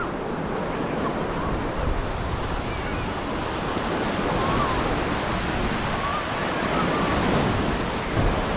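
Steady roar of Gulf of Mexico surf washing onto a beach continuously, with wind buffeting the microphone and no clear voices.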